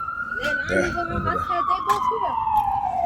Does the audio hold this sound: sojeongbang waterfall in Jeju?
no